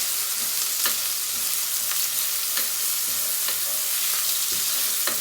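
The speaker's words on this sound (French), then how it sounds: "Donc je vais faire revenir les oignons pendant quelques minutes." Onions frying in a pan for Cameroonian ndolé, a steady close sizzle with regular scraping strokes as they are stirred, no talk.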